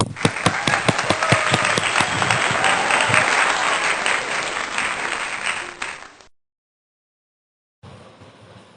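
A church congregation at a Sunday worship service applauds after a sermon with loud, dense clapping that thins and fades out, followed by a stretch of silence and then low room sound.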